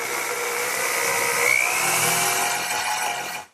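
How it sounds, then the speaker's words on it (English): A power drill fitted with a 1/4-inch brad point bit bores dowel holes into wood for a drop leaf table, a close, loud, steady whine lasting a few seconds before winding down. "And I'll use a brad point bit, 1/4-inch brad point bit."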